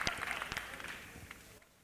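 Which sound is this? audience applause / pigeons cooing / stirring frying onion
audience applause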